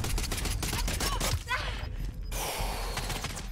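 Gunfire in an online shooter game: rapid, sharp shots in a steady volley, fairly close, followed by a brief lull, with some breathing and voice sounds mixed in.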